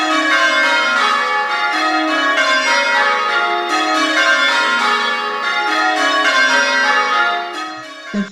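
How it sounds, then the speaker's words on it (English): Church bells ring at St. Louis Cathedral in a rich, overlapping peal. The layered tones sustain loudly and steadily, then fade near the end. "bells ring for Joan"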